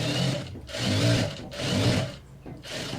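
A sewing machine runs in three bursts of rapid mechanical stitching while a straight pant is sewn, loud and close, with short pauses between runs.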